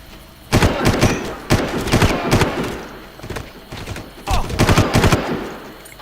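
Bursts of gunfire in the video game Far Cry, loud rapid volleys of shots in several clusters separated by brief pauses, close and punchy.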